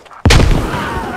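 A grenade detonating in the Squad military shooter game: a single sharp, loud blast after a brief near-silence, followed by a rumbling decaying tail, no talk.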